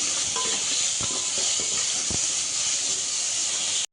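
Onion and tomato sizzle in a frying pan as they are stirred together for a sorrel leaf dish, a steady hiss with a few soft scrapes and knocks of a spoon, ending abruptly.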